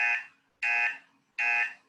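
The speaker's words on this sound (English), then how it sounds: "At the end of 2 minutes, I'll press the buzzer once" Meeting timer buzzer sounding three short, evenly spaced electronic buzzes, each about a quarter second long, clear and close, with no voices.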